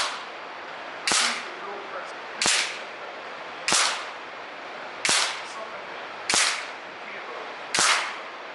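Six sharp air rifle shots from a Daystate AirWolf MCT fired at a target in a group, each a crisp crack with a short decaying tail, spaced roughly every 1.3 seconds and heard alone.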